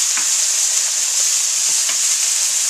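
Potatoes for a breakfast burrito frying in a pan make a loud, steady, hissing sizzle throughout, with faint occasional stirring taps underneath.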